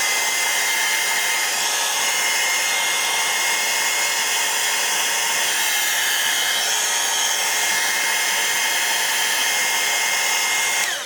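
A hair dryer blows steadily to dry a mixed media steampunk-style art tag, a loud, continuous whooshing roar that runs unbroken for the whole stretch with no talking over it.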